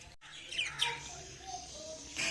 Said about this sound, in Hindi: सारे रिश्तेदारों को है तोते का शौक, ये तोते देख ना